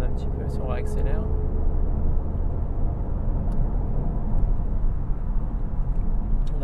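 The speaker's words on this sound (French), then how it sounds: "on peut descendre, mettons aux palettes comme ça, voir ce que ça donne un petit peu si on réaccélère" A Peugeot 308 SW automatic re-accelerating after a paddle-shift downshift, heard from inside the cabin as a steady low engine and road rumble, with a brief faint voice near the start.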